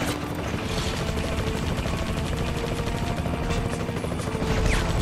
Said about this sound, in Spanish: había un helicóptero que me estuvo disparando todo este rato